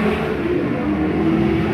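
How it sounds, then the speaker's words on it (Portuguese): A Yamaha RD350 motorcycle engine revs loudly nearby at a motorcycle museum expo, a sustained buzzing drone that holds its pitch throughout. No one speaks. "E lá os caras estão ligando uma RD350 pra dar uma zoada."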